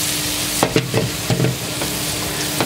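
Chestnut mushrooms fry in butter with a bright, close sizzle while a spoon stirs them. Several sharp scraping knocks break through the hiss, and nobody talks.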